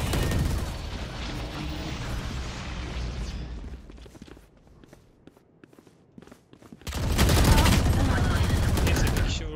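Repeated automatic gunfire and single shots in Valorant competitive play, loud bursts at the start and a dense, sustained volley near the end, with a quieter gap in between.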